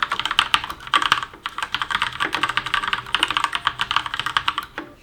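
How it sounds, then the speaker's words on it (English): Typing on an ASUS Cerberus Mech RGB mechanical keyboard fitted with stiff, non-clicky Kaihua black switches: a steady, close run of quick muffled keystrokes with brief pauses, heard alone. "This exact model here has the Kaihua black switches, which are pretty stiff and have no mechanical clicky noise, so they sound more like membrane switches."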